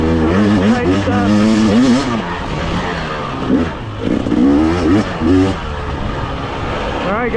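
2024 GasGas EC250 enduro motorcycle ridden hard on a tight trail lap, its engine buzzing loudly and revving up and down through repeated throttle bursts.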